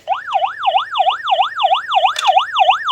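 An older Tonka rescue toy vehicle sounds a loud, continuous electronic wailing siren that rises and falls rapidly and regularly, with a faint low buzz underneath and one brief click partway through.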